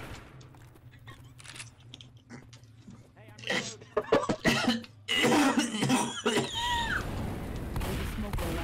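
Left 4 Dead 2 Haunted Forest campaign with a cough, one sharp burst among louder clattering game noises and bursts of talk, building into busier noise toward the end.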